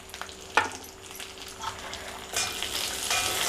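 Chana dal and urad dal roasting in a little oil in a pan, a steady crackling sizzle with a few knocks of stirring, growing louder and brighter toward the end.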